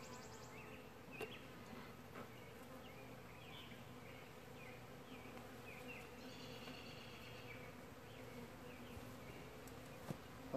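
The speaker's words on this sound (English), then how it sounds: "it's probably not been there. It probably started out on somebody's farm years ago, but they're real small bees." Small feral honeybees from a wild colony buzz steadily, a soft continuous drone with individual bees whining past nearby, faint and alone.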